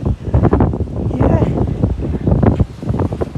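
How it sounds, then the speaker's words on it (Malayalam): Strong wind buffets the microphone on Gap Road, a mountain road in Munnar, Kerala, as a loud, steady roar of gusts that rises and falls throughout. "വലിയ കാറ്റുണ്ട്."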